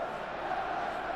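Steady roar of a football stadium crowd in the PES 26 video game, a dense continuous wash of cheering held at an even level for a brief moment with no break.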